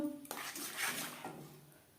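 Spiced water poured into a pan of vegetarian potato, cauliflower and paneer curry, a short close splash and rushing pour that fades out, with a faint clink of the pan.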